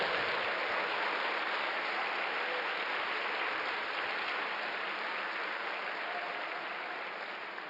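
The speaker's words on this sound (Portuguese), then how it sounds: "Pode aplaudir o Senhor." A church congregation at a Sunday service applauds, a steady wash of many hands clapping that stays fairly distant and even, slowly easing off without any talk over it.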